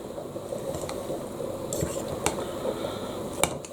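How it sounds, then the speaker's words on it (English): A utensil stirs through a pot noodle with a steady soft squishing and scraping, punctuated by a few light clinks against the pot, close and fairly quiet. "Give it all a really good stir so it's all mixed in nicely."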